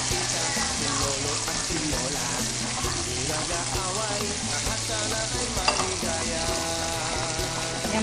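Thinly sliced meat fries crispy in a pan for spaghetti, a continuous dense sizzle with stirring scrapes and crackles throughout, steady and close.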